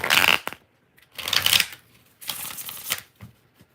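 Tarot cards being shuffled by hand in three bursts of crisp riffling flutter, close and fairly loud, separated by short silences.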